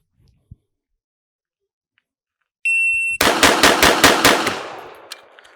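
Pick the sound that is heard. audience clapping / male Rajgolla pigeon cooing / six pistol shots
six pistol shots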